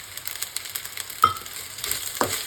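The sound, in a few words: stirring frying prawn head gravy with chili powder in a pan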